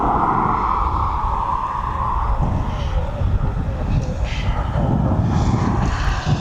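A Formula One charter aircraft from Montreal lands at East Midlands Airport in a gusty crosswind, a steady loud jet rumble buffeted by wind noise, with a brief tonal hum fading early on.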